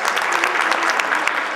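Libertarian National Convention audience applauding, a close, loud burst of many individual claps crackling densely for over a second.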